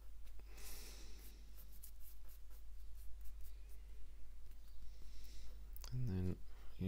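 A pen or pencil scratches faintly and steadily across paper while marking outlines for a 1/32-scale Kotare Spitfire model, carried over a low hum, with a brief voice near the end.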